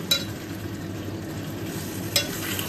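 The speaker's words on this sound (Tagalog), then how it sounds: "Haluin na natin siya ng bonggang-bongga." A spoon stirs sweet and sour sauce with fried tilapia in a pan: a faint, steady scraping with a low background hiss, marked by two brief clinks near the start and near the end.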